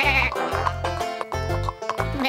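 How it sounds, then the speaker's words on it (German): A cartoon goat lets out a series of loud, wavering bleats in quick succession, each cry rising and breaking with a buzzy, nasal tone, heard alone with no talk. "aber das ist doch eine Ziege."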